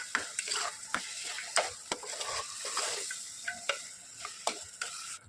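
A spoon stirs carrot halwa with sugar in a pressure cooker. The scraping and sizzling comes close and fairly loud, in repeated sharp strokes, with no talking.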